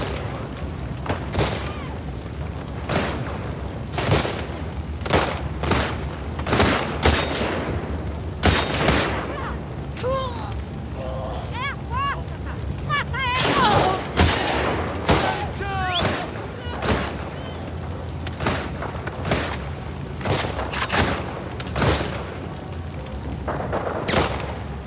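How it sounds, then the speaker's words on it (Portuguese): Rifle gunfire in The Last of Us Part II, a string of loud sharp shots and booms in irregular bursts across the scene, with game sound effects and a player's voice talking between them. "Eu vou pegar o riflezão aqui."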